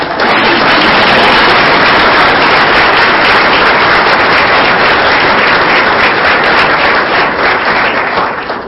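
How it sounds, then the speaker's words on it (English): Audience applause for Madison as names are read at a high school team recognition event: loud, dense and steady clapping from a large crowd, sustained at full strength for several seconds before easing slightly at the end. "So all clap collectively for Madison."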